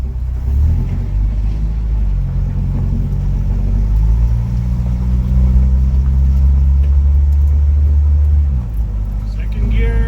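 1988 Jeep YJ, left abandoned for years, driving in second gear with a loud, steady low engine rumble that swells slightly and then drops off near the end; close to the microphone.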